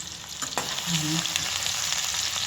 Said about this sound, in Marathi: हे बघा आपला कांदा भाजला जातो.